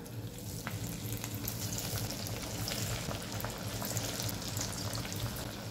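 Kothimbir vadi, coriander fritters made with bajra flour, deep frying in a kadhai of medium-hot oil on a gas stove, giving a steady, dense sizzle and bubbling that carries on without a break.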